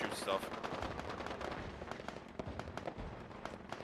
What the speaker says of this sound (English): So if you hear gunfire while listening and watching this chat, I apologize in advance.